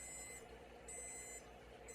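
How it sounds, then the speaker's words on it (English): Aquarium controller's temperature alarm sounds as faint, high repeating beeps in regular bursts roughly every half second to second, quiet against low background hum. "once the temperature drops to the proper level, the alarm will stop sounding"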